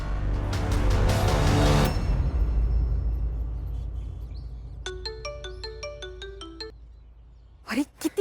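A loud burst of noise gives way to a short, tinkling electronic melody like a phone ringtone, followed by a couple of sharp clicks at the end.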